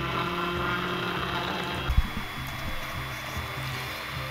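Steady high-pitched whine of an electric router cutting a rectangular screen opening in a plastic project box, continuous and fairly loud with a brief bump partway through, no voices.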